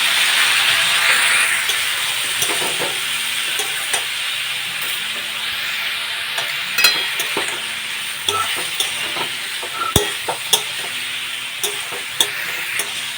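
Spiced pumpkin curry being stirred and fried in a pan, a loud continuous sizzle broken by regular scraping knocks of the spoon against the pan.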